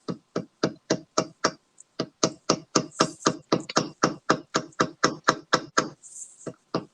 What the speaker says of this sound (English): as I'm starting to hammer it in, it goes away